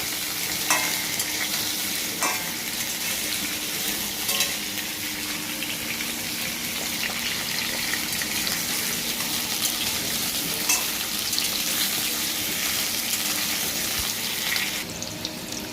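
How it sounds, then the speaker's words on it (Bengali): Potatoes and green banana frying in oil in a wok give a loud, steady hiss while being stirred, broken by scattered scraping and clinking of the utensil against the pan. "এটাকে ভালো করে ভেজে নেব"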